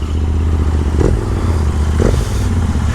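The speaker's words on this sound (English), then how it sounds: "is riding the Continental GT. That's got aftermarket exhaust. How good does that sound?" A Royal Enfield Continental GT motorcycle fitted with an aftermarket exhaust, its loud, throaty engine note rumbling steadily nearby with no talk.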